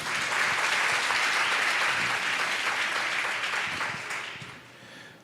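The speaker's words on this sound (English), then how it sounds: "Clap it up for them," Audience applause fills a conference hall, a steady dense wash of many hands clapping close and loud for about four seconds before thinning out and fading near the end.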